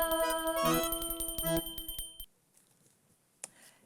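A small bell rings brightly with several quick repeated strikes for about two seconds, then cuts off into near silence with one faint knock.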